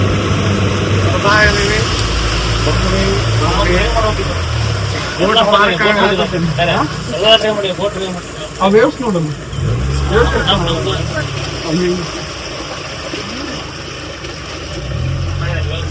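A safari boat engine on the Kabini backwaters rumbles steadily while the boat docks, with voices talking over it throughout and the engine note shifting as it slows.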